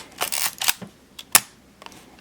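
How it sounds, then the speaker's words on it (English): A Sears TLS 35mm film SLR camera set to bulb fires with a close mechanical clack as the mirror flips up, then a second clack about a second later as the shutter closes and the cycle completes. "mirror stays up as long as I hold the shutter button down, and then the cycle completes"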